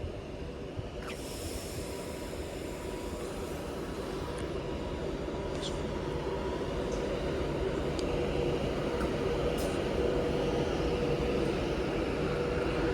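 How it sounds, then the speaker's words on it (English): Fast train rushing through a station platform at Warrington Bank Quay, a broad continuous roar and hiss building steadily and staying loud throughout, with faint high squeals over it. "fast train now approaching platform 4"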